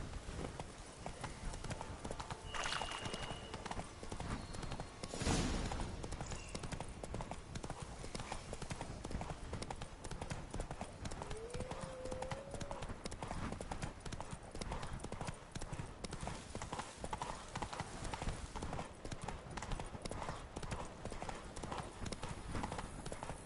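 Horse hooves trotting in a PS4 video game, a steady rapid clip-clop throughout over ambient game sound, with a brief whinny-like tone.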